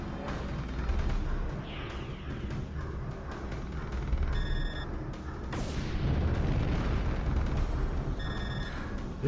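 Shooting and explosions in Panzer Dragoon Saga on the Sega Saturn, a steady rumbling barrage of booms and blasts with bright tonal game effects cutting through, a sharp whooshing burst near the middle, continuous and fairly loud with no talk.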